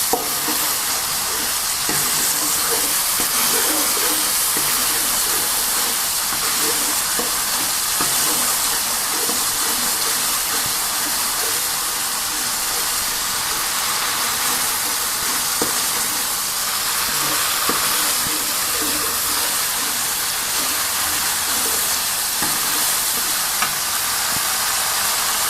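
Spicy chicken feet fry in a pan while being stirred, a loud continuous sizzle and hiss dotted with scraping utensil clicks, with no talking.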